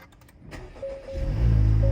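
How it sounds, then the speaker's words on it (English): Cold start of a 2024 Acura Integra Type S engine, a brief starter whir quickly rising into a loud, steady low idle rumble that fills the end of the clip, with no talking. "So let's actually do one more cold start."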